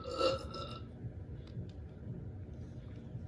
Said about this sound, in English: We are making a bunch of burps.